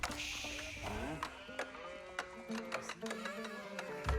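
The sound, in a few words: sheep bleating in video game Age of Empires 4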